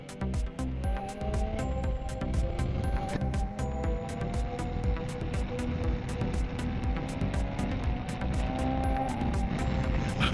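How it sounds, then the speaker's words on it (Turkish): Motorcycle on new Continental Sport Attack 4 tyres during break-in, its engine droning steadily at moderate revs with gentle rises as gears are shifted, heard close under strong wind buffeting. "Şimdi de rodaj devirine özel vites atıyorum."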